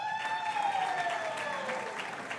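Gala audience claps and cheers for an elementary school Teacher of the Year, a full, sustained burst of applause with a long whistle-like tone gliding down through it.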